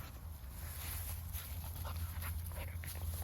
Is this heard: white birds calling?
no